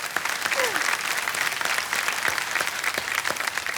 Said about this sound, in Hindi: अभी सब लोग ताली बजा रहे हैं,